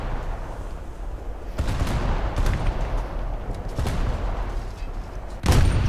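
In the War Thunder naval battle, a warship blows up amid booming gunfire, with heavy cannon blasts punctuating a rumbling battle din and a sharp loud burst near the end.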